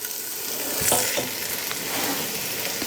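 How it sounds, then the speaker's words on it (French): Onions, garlic, ginger and potatoes cook in a pot for carrot soup, giving a dense, steady sizzle with a few scrapes of stirring near the start, no talking. "ce que je mélange, c'est, encore une fois, les oignons qu'on a coupés, les 3 gousses d'ail, le gingembre et les pommes de terre"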